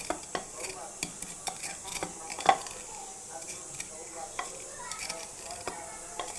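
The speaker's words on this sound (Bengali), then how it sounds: "পোলাওর উপরে যে বেরেস্তা দেওয়ার জন্য পেঁয়াজ ভাজা হচ্ছে" Onions fry in a pan for a birista topping on pulao: a soft, steady sizzle under frequent light clinks and scrapes of a stirring spoon against the pan, close by and fairly quiet.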